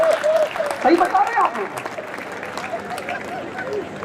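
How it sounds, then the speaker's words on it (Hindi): An audience at a Hindi comedy poetry recital claps and cheers while the poet keeps talking and a tonal sound rises over the crowd, a busy mix of applause under voice. "अब बजाओ ताली।"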